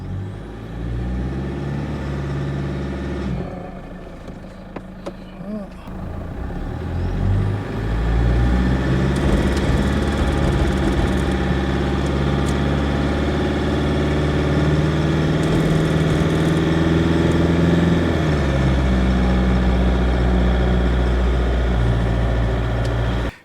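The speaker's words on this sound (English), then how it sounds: "Got out in four-wheel drive, low gear" A four-wheel drive vehicle in low gear drives out of a bogged spot on the Dampier Peninsula, its engine droning steadily and loudly, rising into a strained, heavier roar after a brief quieter dip.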